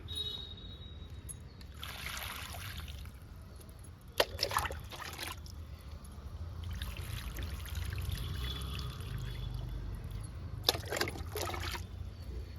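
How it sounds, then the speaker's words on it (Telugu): Water pours and trickles in uneven bursts onto soil around papaya and vinca plants, with a few sharp splashes and a faint steady background hum. "బొప్పాయి మొక్కకి వింకా మొక్కకి వాటర్ ఇస్తున్నాను"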